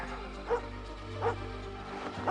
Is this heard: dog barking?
yes